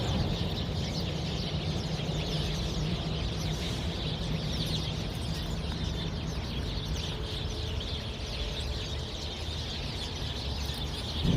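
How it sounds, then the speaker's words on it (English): Many small birds hidden in bushes near the Red River in Alexandria, Louisiana, produce a continuous busy chorus of chirps and clucking calls, steady and fairly close throughout with no voices. "These bushes are infested with all these little birds making all kinds of noise."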